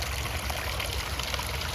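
A tall waterfall spills into a 4 by 3 metre ecosystem garden pond, a steady close splashing trickle of falling water with no voices.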